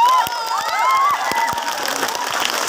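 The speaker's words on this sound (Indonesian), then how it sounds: "Tepuk tangan untuk perempuan." At a Sundanese religious lecture, the audience, including children, breaks into lively cheering and shouting over some clapping, with high voices whooping and calling out in short, excited bursts.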